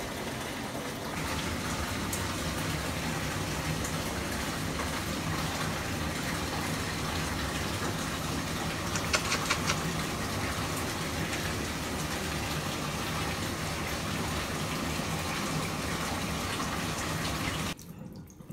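Running water pours steadily into a bathtub being filled with warm, soapy bath water for a baby, a continuous close rushing hiss that stops abruptly at the very end.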